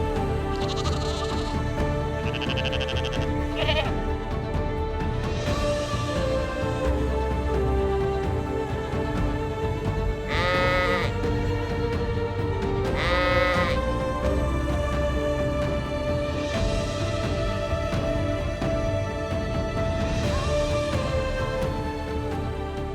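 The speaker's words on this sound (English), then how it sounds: "catching sight of a mountain goat balanced calmly on a cliff" A mountain goat bleats repeatedly in the Montana wilderness, several wavering calls rising over continuous outdoor background noise throughout.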